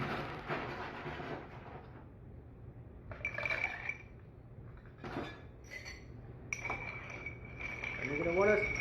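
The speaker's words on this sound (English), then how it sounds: "We're going to stir with ice." A rye whiskey cocktail stirred with ice in a mixing glass, with bright clinks and tinkling ice in bursts and a swirling liquid sound near the end; a person speaks at the start.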